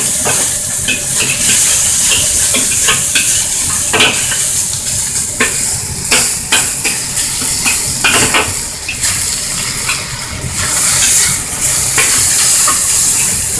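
Chicken pieces for moo goo gai pan browning in a hot pan: loud, close, continuous sizzling and hissing with frequent scrapes and clatter from a utensil stirring against the metal.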